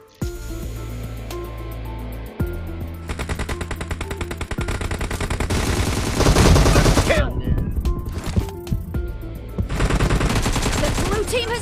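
Sustained automatic gunfire in the mobile game PUBG Mobile, with long rapid bursts broken by short pauses, loud and close, over a steady background hum.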